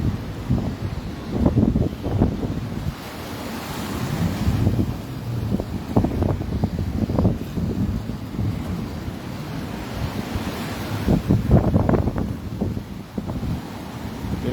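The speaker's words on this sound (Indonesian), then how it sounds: "Wilayah Kabupaten Bulukumba terus dilanda dengan angin kencang dan gelombang tinggi." Strong wind and high sea waves batter the coast at Tana Beru, Bulukumba, where a stranded pontoon barge is moored; steady loud wind roar over repeated surging crashes of surf, with no voices.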